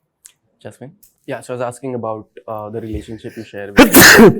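One sharp, loud sneeze bursts out near the end of an interview, right after a stretch of close conversational talk.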